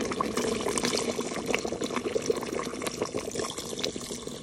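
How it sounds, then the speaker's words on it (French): A litre of hot water pours into a Cookeo electric pressure cooker, giving a steady, close splashing and gurgling that runs unbroken for several seconds. "Puis vous ajoutez 1 litre d'eau chaude."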